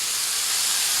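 Fresh spinach hitting a hot pan gives a loud, steady sizzling hiss that holds evenly through the whole short moment, close and bright with no voices.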